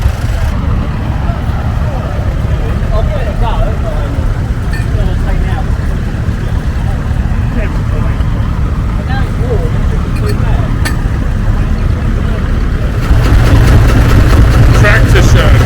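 A vintage Field Marshall tractor engine runs at a tractor show, a loud, steady low-pitched rumble heard close by, with a person talking over it. The engine grows louder toward the end.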